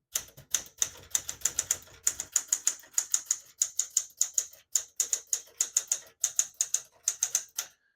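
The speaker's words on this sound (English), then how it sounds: "This is your daily reliable typewriter." Brisk keystrokes clatter on a 1968 Smith-Corona Super Sterling portable typewriter, a fast, uneven run of sharp close strikes with a low mechanical rumble early on and no voices.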